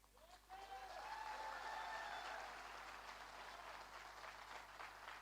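An audience at a business success event in Indore applauds the company owner. Sustained clapping rises and holds at a fairly quiet level, and a faint tonal whistle or cheer sounds early on.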